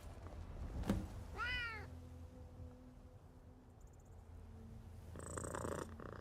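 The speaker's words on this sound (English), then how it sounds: "Hey, kitty." A cat in the Skyrim video game meows once with a rising, wavering cry, then purrs softly and steadily, ending with a brief scratchy rustle; no talk.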